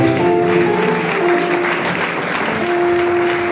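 A church congregation claps during a testimony service, steady dense applause filling the clip from start to end, with sustained tones from music or voices running underneath.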